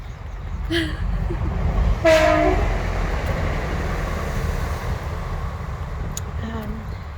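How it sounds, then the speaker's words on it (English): A train rumbles past at moderate distance, with a steady low roar and a brief horn-like tone, over outdoor wind noise. "Now there's a train."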